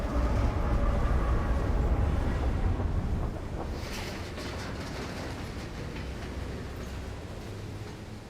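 Trains thunder past in the video game Alpha Protocol, a loud, steady broadband roar and rumble filling the whole stretch, easing slightly partway through, with no talk over it.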